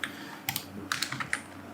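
Keys clatter on a computer keyboard in a short burst of quick, uneven taps at close range, with no talking.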